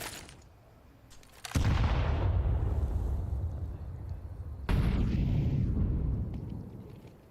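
Grenades go off in a Counter-Strike match: a sharp click, then two heavy, booming blasts a few seconds apart, each with a long rumbling decay.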